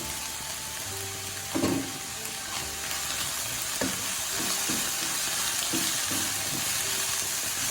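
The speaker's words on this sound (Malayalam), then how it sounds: "നമ്മൾ ഈ വറ്റൽ മുളകും കൂടി അതിലോട്ട് ആഡ് ചെയ്ത് കൊടുക്കുകയാണ്" Dried red chillies frying in hot oil for a soya fry, a steady close sizzle with a few scraping stirs and knocks against the pan, no voices.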